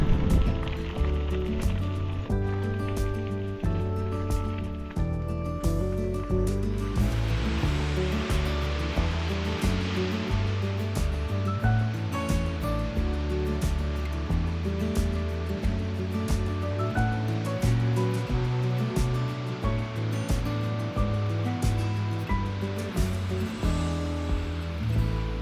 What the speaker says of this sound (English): Man, those waterfalls are incredible.